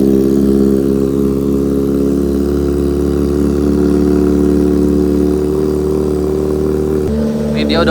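A Kawasaki ZX25R motorcycle engine left standing for a month idles with a steady, dense mechanical drone and stacked harmonic hum, loud and close, with a brief shift near the end.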